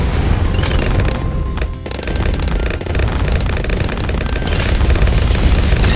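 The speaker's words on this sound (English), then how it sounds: "Turbo damage laser bombs." Laser bombs ability firing in the Bloons TD 6 video game, a dense loud continuous barrage of booming blasts and rapid fire that barely lets up throughout.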